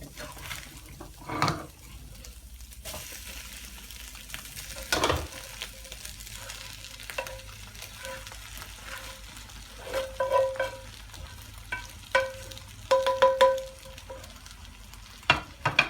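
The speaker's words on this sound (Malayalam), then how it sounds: "ഇതിലേക്ക് നമ്മൾ കപ്പ ഇട്ട് കൊടുക്കുകയാണ്" Tapioca (kappa) is stirred into scrambled egg frying in a pan for kappa mutta biriyani, with a soft sizzle under scattered scraping and knocking of the spoon against the pan, close and without talk.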